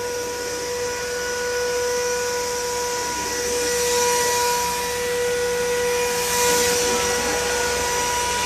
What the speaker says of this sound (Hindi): सॉरी, ड्राई क्लीन नहीं, वैक्यूम हो रहा है इसका.